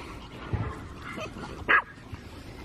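A single sharp dog bark cuts in near the end, preceded by a softer yip, over low outdoor background noise.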